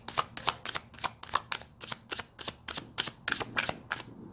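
Tarot cards shuffled by hand in a steady run of crisp, papery riffling bursts, about three per second, close and fairly quiet, with no talking.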